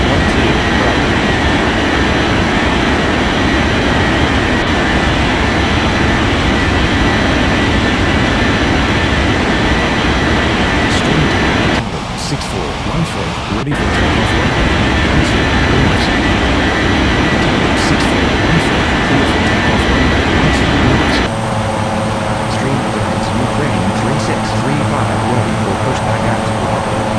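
Airliners roll and take off from a runway in an air traffic control game, a loud continuous jet engine roar that shifts in tone partway through.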